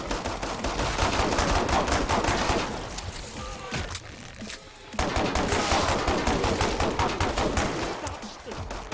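Rapid, dense automatic gunfire from the video game Killing Floor 2 rattles loudly for several seconds, pauses briefly, then resumes in another sustained burst.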